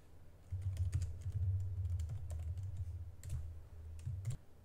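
Rapid typing of Go code on a computer keyboard, close and steady, with dense key clatter running for several seconds before stopping abruptly near the end.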